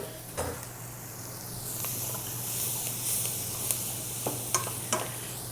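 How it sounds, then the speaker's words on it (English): Carrots and celery sautéing in a pan, a soft continuous sizzle with occasional sharp taps and scrapes of a utensil against the pan, close by and fairly quiet. "All right, so we'll add our carrots and our celery."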